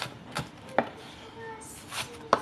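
Knife chopping onions, a few sharp separate cuts against a board, close and fairly quiet, with quiet room noise between strikes.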